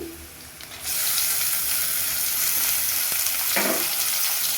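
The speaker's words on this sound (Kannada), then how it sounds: "ಈಗ ಟೊಮೆಟೊ ಹಾಕ್ತಾ ಇದ್ದೀನಿ" Tomatoes drop into a hot oiled pan while making poha (avalakki bath), setting off a loud, steady, close sizzle that starts abruptly after a brief quieter moment and continues throughout.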